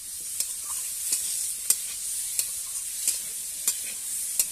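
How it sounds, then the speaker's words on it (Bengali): Chopped tomato and potato fry in a pan with browned onion, giving a continuous close sizzle while a spoon stirs them in regular scraping strokes, about seven in a few seconds. "যাতে টমেটোটা আর আলুটা একটু ভাজা ভাজা হয়ে যায়"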